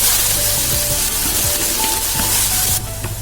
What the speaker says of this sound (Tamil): ஆனியன் சேர்த்தது எண்ணெயில் வந்து நல்லா வதக்கிக்கலாம்